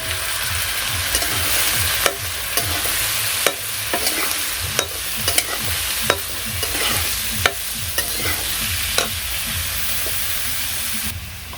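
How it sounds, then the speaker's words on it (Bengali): Potatoes fry steadily in oil in a village kitchen as vegetable stalks and eggplant are added, with a loud continuous sizzle and repeated scraping stir strokes throughout. "এই যে আমার আলুগুলো ভাজা হয়ে গেছে, এখন ডাটা আর বেগুন দিয়ে দিলাম"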